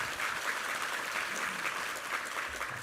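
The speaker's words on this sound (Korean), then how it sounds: "우리 하나님께 감사와 영광의 박수 올려드리겠습니다." A church congregation claps together at a Sunday worship service, a steady, dense round of applause that fills the room throughout with no talking over it.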